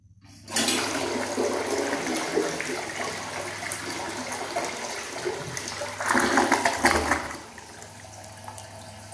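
A Universal Rundle Atlas toilet flushes with a loud rushing surge of water, a second swell midway, then a quieter refill trickle, heard close up in a bathroom with no talk.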